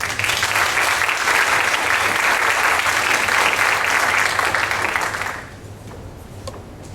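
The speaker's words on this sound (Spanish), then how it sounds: "Recibámoslo con un fuerte aplauso." Audience applause after a speaker is introduced at a psychology lecture: dense, steady clapping from a crowded hall for about five seconds, then fading quickly into quiet room tone.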